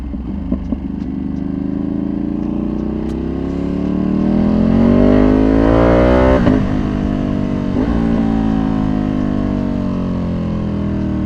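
A Ducati superbike engine pulls hard while riding, its loud close exhaust note climbing steadily in pitch through a long acceleration, then easing off and settling to a lower drone, with a few faint clicks early on.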